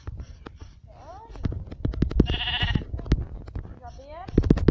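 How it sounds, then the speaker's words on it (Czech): Sheep in the video game Minecraft bleat in several short wavering calls amid game clicks, thuds and effects, while a person talks over the sounds. "A tam jsem viděl ovečku."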